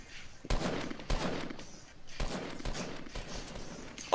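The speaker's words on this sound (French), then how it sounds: "ça me tire dessus" Bursts of rapid gunfire in a multiplayer video game, several sharp volleys spread across a few seconds at moderate loudness, with no talk over them.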